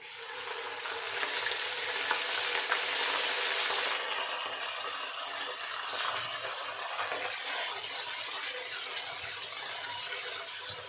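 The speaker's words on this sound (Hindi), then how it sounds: "प्याज ब्राउन हो गया, अब इसमें मैं अदरक डालूंगी।" Browned onion and ajwain fry in hot oil as ginger goes in, giving a loud, steady, close hiss of sizzling that runs throughout.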